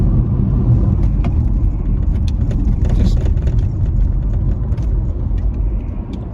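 A car's engine idles and runs with a continuous low rumble, close and loud, with faint clicks and knocks over it and no clear speech.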